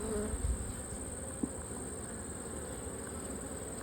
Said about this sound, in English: Lots of bees on it